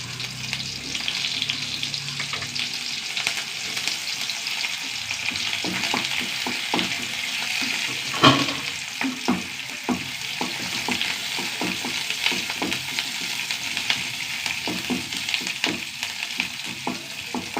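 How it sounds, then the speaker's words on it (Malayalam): Sliced shallots fry steadily in a pan, a constant sizzle broken by frequent scraping and tapping of a stirring spoon, one louder clack midway, with no voices. "നന്നായി മൂത്ത് വരട്ടെ ഉള്ളി"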